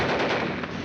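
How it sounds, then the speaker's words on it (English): Gunfire in a 1951 war film: a loud, close burst of rapid machine-gun fire, dense and continuous through the short moment, with no speech over it. "Keep firing, Heine."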